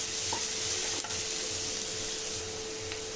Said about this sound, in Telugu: ఈ ఆనియన్స్ అంతా గోల్డెన్ బ్రౌన్ కలర్ వచ్చేంత వరకు ఫ్రై చేసుకోవాలండి